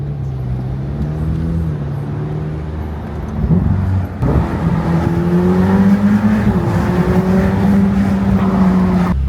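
Ferrari F8 Spider engine heard from inside the car, a loud steady drone that steps up in pitch and intensity midway as the car accelerates.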